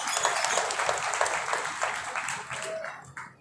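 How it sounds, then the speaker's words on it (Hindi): A crowd at a soldiers' honour ceremony in Bulandshahr claps steadily, thinning toward the end, with a brief tone and a few trailing claps near the close. "तालियां बजाएं"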